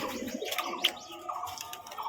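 A pet pigeon kept at home, a parent bird with a chick in the nest, gives soft low cooing mixed with a brief chirp, close and moderately loud against quiet room background.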